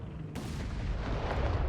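A 5.5-inch artillery piece fires in Company of Heroes 3, a sudden heavy blast giving way to a loud, rolling low rumble that fills the rest of the moment.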